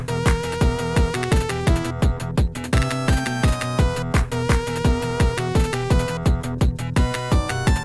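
A song for a skeleton boss fight plays with sparkling high glitter notes, bright plucked tones on a steady pulsing beat over bass and chords, loud and continuous with no voices.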